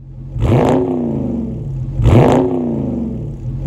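A 2021 Toyota Highlander being driven, its engine revving up twice in two rising, sweeping surges, close and fairly loud with no talking.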